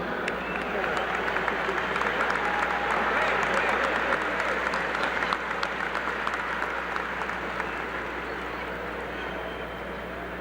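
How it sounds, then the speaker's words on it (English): Applause for Mary Sue Perpich at a 1984 Minnesota Twins sale event, a steady wash of crowd clapping with a low hum underneath, holding evenly before easing slightly. "Let's give her a round of applause."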